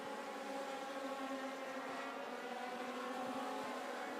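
Race cars in a combined Young Lions, Semi-Pro and Chargers feature at Cordele Motor Speedway drone steadily at a distance, a faint, continuous engine hum without pauses.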